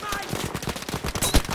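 Battlefield 5 automatic gunfire, a fast rattling stream of close shots with one heavier crack near the end, and a voice mixed in.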